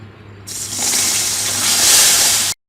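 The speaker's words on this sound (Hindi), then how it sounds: "अब हम पानी ऐड करेंगे।" Water is poured into maida halwa cooking in a pan over a very low flame, a steady rushing hiss that begins abruptly, swells and stops cleanly after about two seconds, close and fairly loud with no talking.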